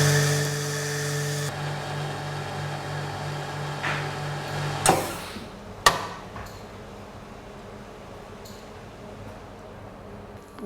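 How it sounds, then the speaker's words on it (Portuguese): A vacuum packing machine in a kitchen lab draws out the air from a bag holding a courgette, a steady motor hum that cuts off, followed by two sharp clunks and a quiet hiss as it seals. "vou colocá-la na máquina de vácuo, o saco dentro aqui da embaladora e, portanto, regularmos o equipamento para fazer o vácuo total"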